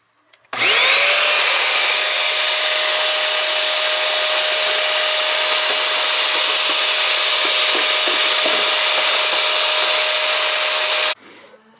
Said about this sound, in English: Let's get this vacuumed out.